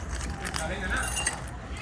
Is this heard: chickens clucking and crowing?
no